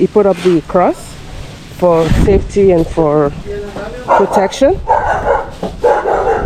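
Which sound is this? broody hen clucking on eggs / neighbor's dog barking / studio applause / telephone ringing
neighbor's dog barking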